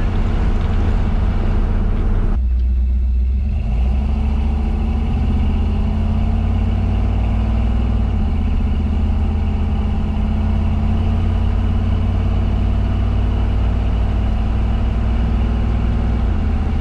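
An old Ford F100 pickup with a 352 V8 and Autolite 4100 carburetor drives steadily through town, a loud continuous low engine drone with a brief shift in tone early on.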